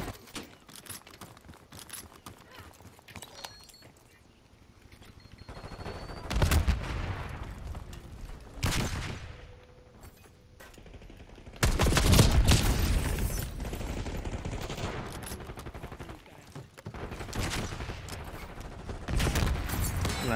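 Goblin Mk2 gunfire in the video game Boiling Point, with bursts of shots at moderate level mixed with other game sounds, rising in louder stretches and dipping between volleys.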